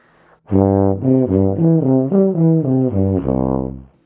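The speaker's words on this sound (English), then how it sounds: "So here's a basic lip slur." A brass instrument plays a smooth lip slur, sliding up and down between harmonic partials in a connected rhythmic pattern, close and full-toned, with no talking.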